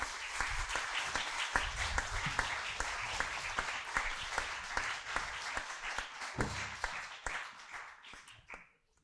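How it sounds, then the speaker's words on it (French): An audience claps steadily at a French school eloquence evening, a dense, even wash of hands with a few louder individual claps, tapering off and fading out near the end. "je pense qu'on peut l'accueillir avec un tonnerre d'applaudissements toujours"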